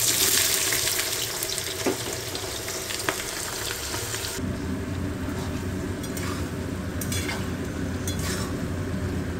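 Onions for beresta fry in oil with a continuous close hiss that shifts in tone partway through, steady and fairly loud, with a few faint clinks, no talk.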